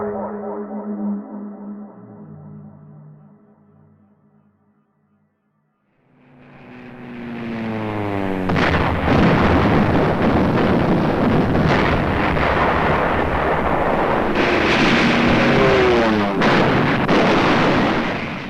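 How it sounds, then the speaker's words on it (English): Anti-aircraft guns firing against unidentified aircraft over the Los Angeles area. After a brief low tonal passage and a short lull, a loud, dense rumble of bursts and booms swells up and carries on continuously to the end. "Anti-aircraft guns went into action against unidentified aircraft in the Los Angeles area shortly after 3 a.m."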